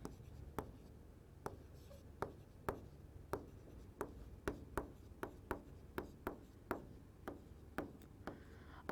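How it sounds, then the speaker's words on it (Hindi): A teacher writes on a board during a physics class, producing close, distinct tapping strokes in a fairly regular rhythm about every half second over a quiet room. "पहले लिख देती हूँ फिर समझते हैं"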